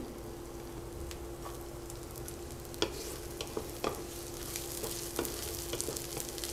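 Onion frying in a spoonful of mustard oil for a mixed vegetable curry, a quiet steady sizzle with a few sharp clinks and scrapes of stirring scattered through.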